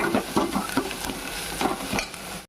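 Ginger garlic paste sizzling and frying in a pan for chicken curry, with steady crackle and repeated stirring scrapes close by, no talk.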